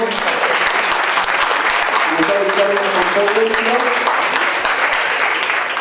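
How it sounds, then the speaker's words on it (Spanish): Loud, steady audience applause at an academic social sciences event, a full room clapping continuously while a voice speaks briefly over it midway. "Fuerte aplauso."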